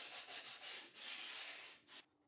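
Rhythmic sanding on a wooden workbench, a dry rasping scrape in repeated strokes, then one long pass before it stops abruptly.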